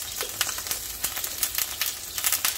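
Ginger garlic paste hits a very hot pan and sizzles loudly, with rapid crackles and spattering pops over a steady frying hiss.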